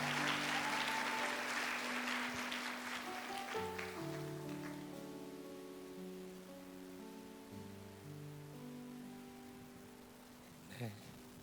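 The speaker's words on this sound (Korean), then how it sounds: "우리 박수로 환영해 주십시오" Church congregation applauding to welcome a deaconess, a broad wash of clapping that gradually fades under sustained organ or keyboard chords.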